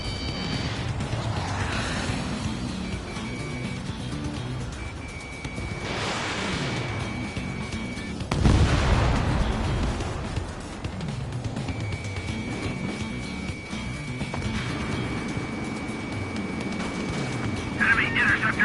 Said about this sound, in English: Enemy interceptors firing.